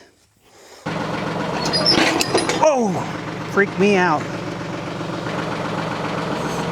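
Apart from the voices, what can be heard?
backhoe tractor engine running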